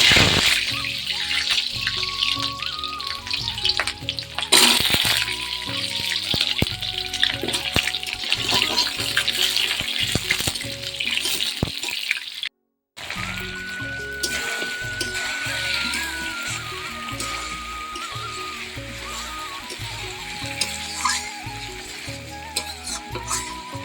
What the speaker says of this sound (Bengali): কড়াইতে তেল দিয়ে দিয়েছি কড়াই গরম হয়ে গেছে এর মধ্যে এখন আমি আলুগুলো দিয়ে দেবো আলুগুলো ভাজবো